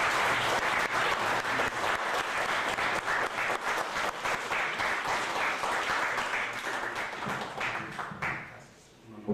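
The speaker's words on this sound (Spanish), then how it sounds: "Un aplauso, por favor, nuevamente para el doctor Joel Ackerman" Sustained applause from the audience at a book presentation in honor of a doctor who commented on the book, dense and steady for about eight seconds before tapering off near the end.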